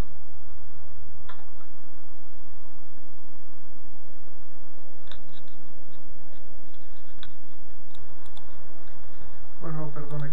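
Someone types an email address and password on a computer keyboard, producing sparse, scattered keystroke clicks over a low background hum, with a short burst of quicker tapping near the end.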